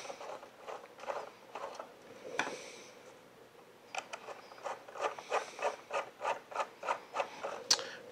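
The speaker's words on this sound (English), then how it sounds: "go ahead and push another either MP5 or Pelgon oil patch through the gun." A cleaning jag and patch pushed through a Marauder air rifle barrel, giving soft repeated rubbing strokes close by, irregular at first and then in a quicker steady rhythm.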